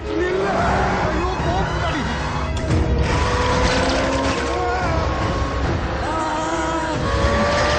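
A Lamborghini engine roars and revs during a racing film scene, loud and close, with shifting pitch sweeps and rushing wind under layered soundtrack noise and brief speech.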